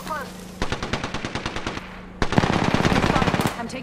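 Automatic weapon fire in the battle royale game Apex Legends: two close, loud bursts of rapid rattling shots, the second denser, with a faint voice at the start.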